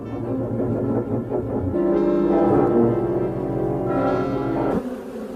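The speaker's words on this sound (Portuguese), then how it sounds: "O zumbido de uma abelha tem cerca de 30 hertz" A steady, droning buzz of a bee holds for several seconds, its rich harmonics wavering slightly before cutting off near the end.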